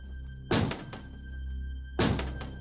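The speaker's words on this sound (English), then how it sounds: "outside was the sound of the door banging" A door bangs hard twice, each heavy thud followed by a short rattle, with about a second and a half between them over a low steady hum.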